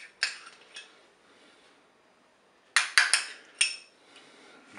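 A utensil stirring ingredients in a Cookeo pot, a few sharp metallic clinks against the bowl in two short clusters separated by near silence, close and crisp.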